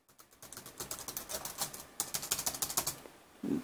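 Rapid bursts of clicky keystrokes from a Compaq Armada M700 laptop keyboard, typed in two quick runs with a brief pause between, close and crisp.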